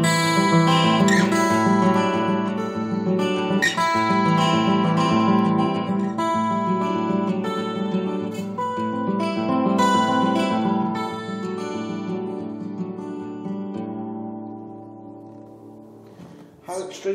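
Yamaha TransAcoustic guitar played with its built-in chorus effect, chords and picked notes shimmering close and clear for a long passage before ringing out and decaying near the end.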